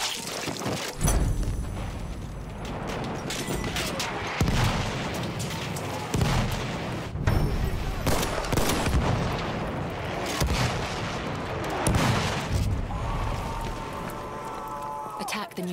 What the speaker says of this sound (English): Wait for the enemy artillery.